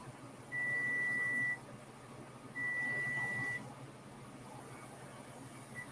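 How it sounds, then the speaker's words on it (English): Two steady electronic beeps from a kitchen timer while mushrooms and onions cook for a lentil and kale stew, each tone lasting about a second with a pause between, clear above faint background room noise. "I'm turning my timer off."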